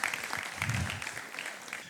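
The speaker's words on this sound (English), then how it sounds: "Big round of applause." A festival audience bursts into steady, dense clapping for a correct quiz answer, loud and sustained throughout before tapering slightly at the end.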